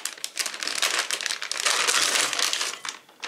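Plastic package of green beans crinkling and crackling as it is torn open up close, a dense, continuous rustle lasting a few seconds with brief dips.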